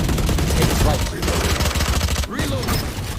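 Rapid gunfire in the Valorant video game, bursts of shots crackling in quick succession and nearly continuous, loud and close, with a brief lull partway through.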